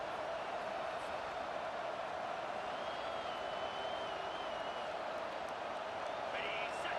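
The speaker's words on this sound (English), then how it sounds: "It's early, but this crowd is fired up. Listen to this noise here." A stadium crowd in EA Sports College Football 25 roars as a steady, dense wash of noise throughout, with a voice talking over it.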